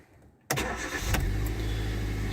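A Hyundai i10 started by push button: near silence, then the engine catches abruptly and settles into a steady, close idle.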